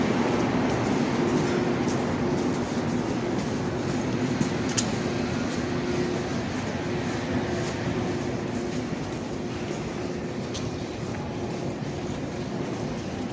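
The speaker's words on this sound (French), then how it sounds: "Et voilà la ligne de métro." A metro train in Montreal rumbles steadily with a dense, continuous roar and faint rattling, fairly loud throughout, with no voices.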